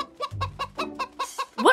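A person clucks in imitation of a chicken, a quick run of about eight rhythmic, voiced clucks that ends in a rising squawk, close and fairly loud over a low rumble.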